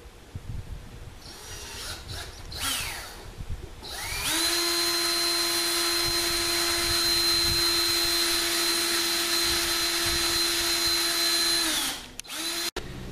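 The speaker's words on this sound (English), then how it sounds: "You want to try and drill it through." A power drill whirs up close and runs at a steady high pitch for several seconds, straining as it bores through a metal bolt before stopping.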